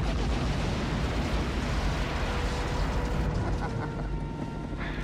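A missile strike explosion in a canyon: a sustained, loud, broadband roar and rumble that fills the whole clip, with heavy low-end blast noise and no speech heard.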